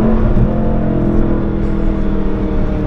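A BMW F10 M5 with a 560-horsepower engine, driven hard in a closed-off area, roaring loudly and steadily close by as it accelerates, with a strong low engine drone and no talking.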